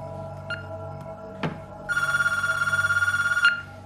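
A telephone rings with a loud, rapid electronic trill in one sustained burst, while a low background hum carries on under it in an indoor scene of a 1997 thriller film.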